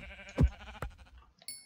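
Minecraft sheep bleat in quick succession, two short wavering baas close by, with a game sound effect near the end.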